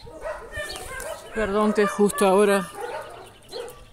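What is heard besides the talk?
dogs barking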